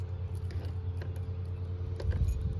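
A large bunch of keys jangles near a camper by a river, giving a few irregular metallic rattles and clinks over a low background hum, with no talking.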